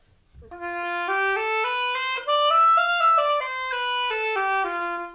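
A solo oboe plays a slow F Lydian scale, rising then falling, each note clear and sustained with a bright, nasal tone.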